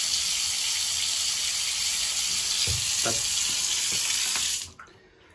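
Cold water runs steadily from a tap during a home repair of a faulty thermostat, then cuts off abruptly near the end; a single brief word is spoken.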